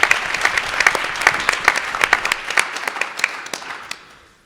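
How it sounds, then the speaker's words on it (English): Audience applause at a poetry reading event, a dense steady clapping from a room crowd that fades out toward the end. "Please give a round of applause to Dana."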